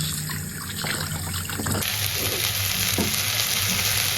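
Polao rice fries in a pan with a loud, continuous sizzle and bursts of stirring scrapes, close by and with no voices.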